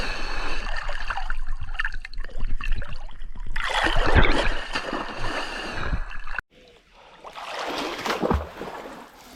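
Water splashing loudly and close by during Kuttanad fishing, coming in churning bursts with a brief quiet gap before the splashing resumes. A voice can be heard faintly.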